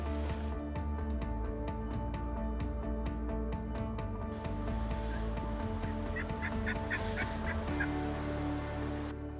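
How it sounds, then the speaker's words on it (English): Wild turkey gobbles in an open Nebraska hunting area near a bluff, a rough rattling call rising over steady background noise, with several bursts that sound moderately distant rather than close. "all of a sudden a turkey gobbles to our left"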